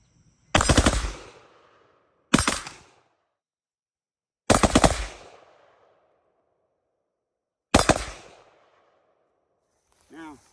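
An AR-15 rifle fires four short bursts at a range, each a loud, close rattle of rapid shots followed by a decaying echo, with quiet gaps between bursts and a brief voice at the end.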